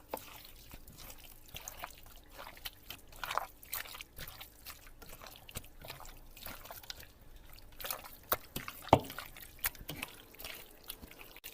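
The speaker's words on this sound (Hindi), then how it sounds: "अभी हम इसको अच्छी तरह मिक्स करेंगे।" Chicken biryani marinade being mixed with food colour by hand, soft wet squelching and sticky slaps in an irregular rhythm, close and fairly quiet, with no talk.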